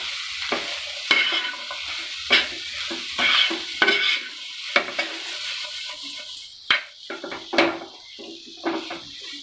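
A spoon scrapes and stirs pasta masala with salt in a pan over a soft, continuous sizzle, making irregular close-up clinks and scrapes repeated every second or so, with no talking.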